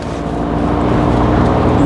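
A 1996 MGF with a 1.8-litre, 118 bhp engine out on a drive: a loud, steady engine drone and road rumble heard close from inside the car, with no break.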